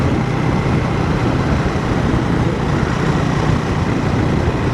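KTM 390 Adventure R motorcycle engine on a test ride, a dense steady rumble mixed with wind roar, continuous and loud with no talk.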